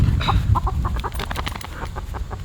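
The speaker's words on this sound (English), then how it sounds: "The chicken got a little too close to him and freaked out." A startled chicken clucks and squawks in quick agitated bursts close by on a farm after straying too near a dog, the calls loud and uneven with no talking.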